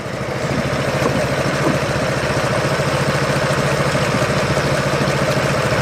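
A diaphragm pump drawing liquid from a tank runs with a steady, loud, rhythmic mechanical chug, continuous and close with no talking.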